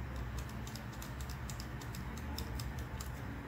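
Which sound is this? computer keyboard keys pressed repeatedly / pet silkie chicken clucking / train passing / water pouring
computer keyboard keys pressed repeatedly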